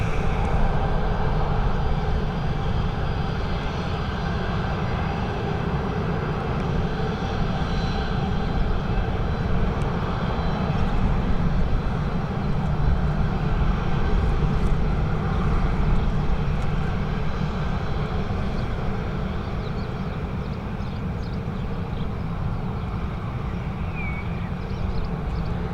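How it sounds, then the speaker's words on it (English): Boeing 737 jet airliner at an airport, its engines giving a steady, loud broadband roar that holds for the whole stretch without fading, with no voices over it. "This one, a 737 heading over to Manchester."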